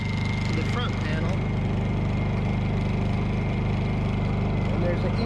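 A Honda EU2000i portable generator idles in eco mode with a steady, even drone close by, while a person talks over the constant hum.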